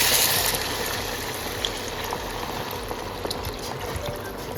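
Water pours steadily into a pan of dried, oil-releasing fried spices for a Bengali koi fish and mankachu curry, a continuous close trickling hiss with faint clinks, no talk.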